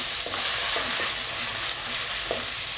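Chopped onion and ginger fry in hot oil in a pan for a Kerala-style fish curry, a steady close sizzle with a few soft scrapes of stirring and no voices.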